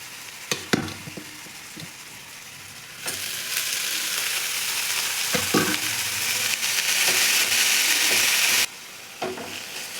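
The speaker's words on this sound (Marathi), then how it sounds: "आपलं तेल गरम झालं आहे आपण बनवलेला ठेका टाकून देऊ आता मेथी पण टाकून घेते" Fenugreek leaves and a prepared paste hit hot oil in a pan, a loud steady sizzle swelling and dropping in bursts, with a few clattering stirs and scrapes of a spoon, close up and with no talk.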